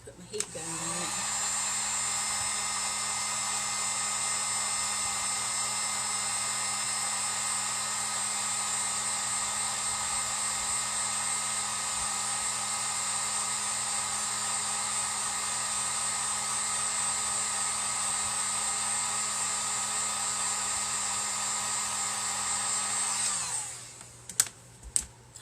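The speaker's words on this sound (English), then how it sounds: "So I'm going to put my heat gun on it." A heat gun blowing on a lighted decorative board, a steady loud whooshing roar held for over twenty seconds before switching off, followed by a few faint clicks.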